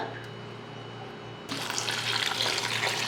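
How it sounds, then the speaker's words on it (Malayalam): A quiet hum, then cold water suddenly starts pouring in a steady gushing stream into a pot, close and fairly loud. "അപ്പം ഞാൻ ഇതിലേക്ക് കുറച്ച് തണുത്ത വെള്ളം ഒഴിച്ചു കൊടുക്കുകയാണ്"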